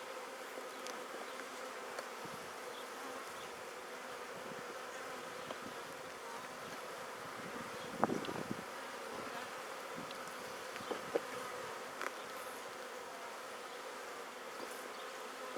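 Honeybees buzz in a dense, steady drone at an opened hive during inspection after a colony split. The hum stays close and continuous, with faint clicks and knocks from the frames.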